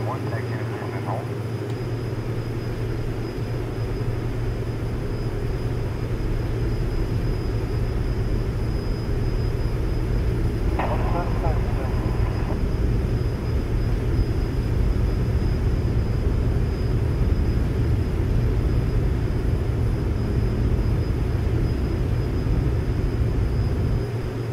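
A small airplane takes off from a small runway, its engine a loud steady drone that holds throughout, with brief radio chatter heard faintly over it.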